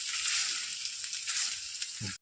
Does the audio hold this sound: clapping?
no